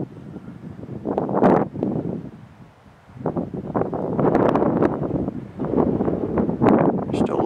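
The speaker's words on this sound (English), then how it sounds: "Still a little bit of wind. Hopefully that's not picking up too bad on the microphone" Gusty wind buffets the microphone outdoors on a quiet hiking trail off Arizona's Apache Trail, rumbling in loud bursts that swell and fade, dipping briefly before picking up again.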